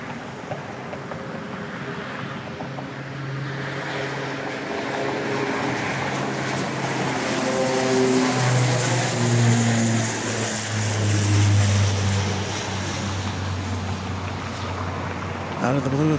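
A Saab 2000 turboprop taking off at Dallas Love Field: a broad, steady engine roar that swells gradually through the middle, with rising and falling propeller tones, heard from a distance.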